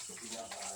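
Water is poured into a container for a pig to drink, giving a brief, steady splashing pour close by.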